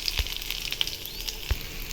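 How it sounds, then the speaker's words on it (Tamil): Spices for pepper curry roast in a hot pan, a continuous close frying hiss and crackle with occasional sharper pops and scraping. "பாருங்கள் எல்லாமே நல்லா வறுபட்டுருச்சு"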